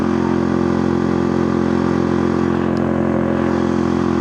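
A street-legal mini bike with a CVT, ported head and forged rod, its engine droning steadily and loud while climbing a hill, held at a constant moderate rev without surging.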